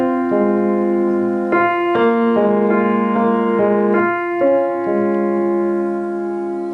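Piano phrase from a song played with the sustain pedal down, so successive notes blur and ring into one another in a warm, continuous wash; close, moderately loud, no voices.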